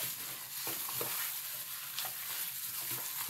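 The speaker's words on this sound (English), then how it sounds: "So mix it together. Mix it all together." Gloved hands mix raw curry chicken in a bowl, making a steady wet squelching and rustling broken by faint soft clicks, close and fairly quiet, with no talk.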